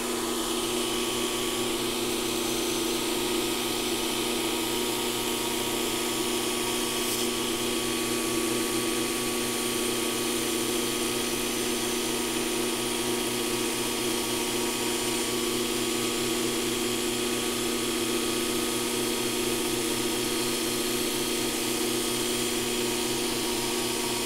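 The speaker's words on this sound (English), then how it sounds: "I'll actually run down the surface of the piece of metal and then rotate my plate through the contact wheel to add that little bit of a round radius edge" A belt grinder's contact wheel grinds along the edge of a metal plate, rounding a corner into a radius. The whirring hum is loud and continuous and holds steady throughout, with no talk.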